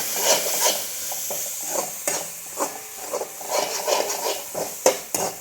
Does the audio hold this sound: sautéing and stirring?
yes